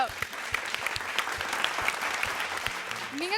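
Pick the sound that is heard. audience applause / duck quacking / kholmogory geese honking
audience applause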